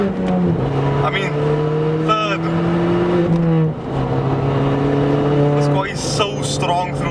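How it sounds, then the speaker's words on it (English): A Ford Fiesta ST with a loud, tuned exhaust accelerates hard through the gears, its engine note climbing steadily and dropping at each quick upshift, heard close from inside the car with voices talking over it. "so strong through the gears. Exhaust is a bit too loud"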